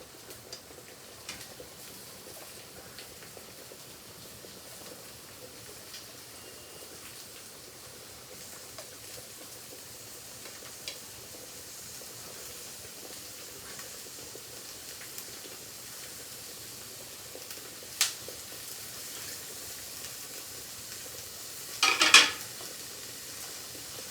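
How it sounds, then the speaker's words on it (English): Chopped onion fries in a pan after garlic, a low, steady sizzle running quietly throughout with a few soft stirring clinks and a brief louder scrape near the end, no voices. "And now let this onion fry."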